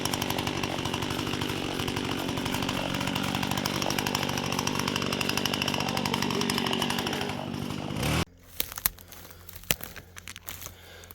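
A chainsaw felling a tree at an Alaska cabin drones loudly and steadily, then cuts off abruptly, followed by scattered cracks and crackling as the wood gives way.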